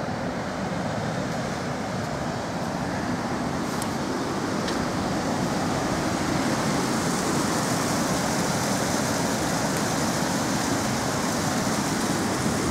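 Water from the Thunder Bay River rushes steadily over the 4 Mile Dam in Michigan, a loud broadband roar that holds constant the whole time with no talking.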